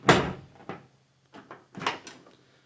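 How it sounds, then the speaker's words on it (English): Door of a Dodge D250 truck with a freshly repaired hinge and new seal being opened and shut, several close, fairly loud latch clunks and thumps spaced over a few seconds in a quiet space. "I won't get angry every time I open and shut the door."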